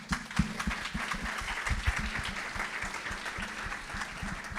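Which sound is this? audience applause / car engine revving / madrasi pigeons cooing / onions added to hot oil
audience applause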